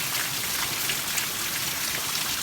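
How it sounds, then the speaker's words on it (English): Heavy rain mixed with hail pours down outdoors, a dense, steady hiss of drops and pellets striking the ground, loud and continuous with no voices. "I know that rain's loud, but I came outside because it started hailing."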